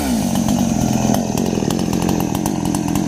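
A chainsaw cuts into a tree under hot 37°C sun, its engine snarling steadily and loudly at close range with no pause across the stretch.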